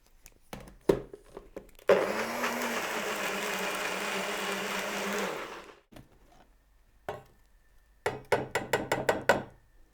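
Blender grinding broccoli, onion and asparagus with garlic for soup: a loud, close whir running about four seconds, bracketed by clattering knocks and a quick run of rhythmic taps near the end.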